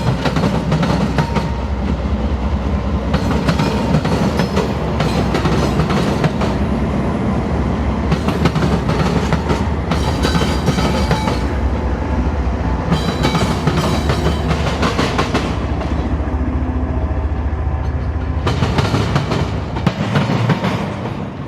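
A CSX intermodal freight train rolls past, its loud, steady rumble and clickety-clack of wheels over rail joints continuing throughout.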